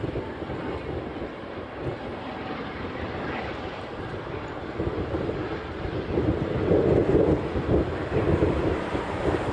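Hawaiian Airlines jet at Honolulu airport, a steady broadband engine roar swelling slightly louder toward the end, heard at a distance with wind noise over the microphone and no talk.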